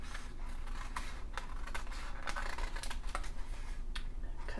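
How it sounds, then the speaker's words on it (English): Scissors cut paper ephemera for a junk journal in a series of crisp, irregular snips and clicks close to the microphone, with no talking. "With me, I'm just going to use my scissors."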